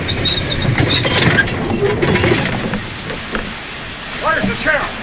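A steam-era train pulling into a frontier town station in a 1946 western. A low, continuous rumble with clatter fills the scene, while voices talk over it.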